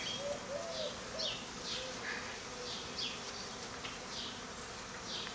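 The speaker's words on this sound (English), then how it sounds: "there's bees all over." Honeybees swarm around a newly installed hive outdoors, a steady faint insect drone running throughout, with scattered bird calls chirping over it.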